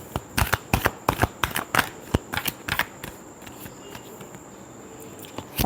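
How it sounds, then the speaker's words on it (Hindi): Tarot cards are shuffled by hand in a quick run of crisp, riffling slaps, then trail off into quiet near the end. The sound is close and clear, with no voices. "Last shuffle."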